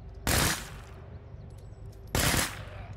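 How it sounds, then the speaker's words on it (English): Two loud, short bursts of rapid-fire pistol shots ring out in the zombie survival game State of Decay 2, spaced about two seconds apart, with quiet ambience in between. "Oh, this is a rapid fire pistol."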